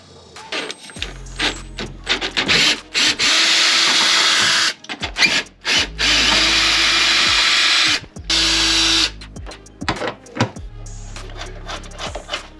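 Power tool removing factory bolts from a 2014-2021 Toyota 4Runner, loud high whirring bursts of a few seconds each, repeated several times with short pauses and pitch drops as the motor spins down.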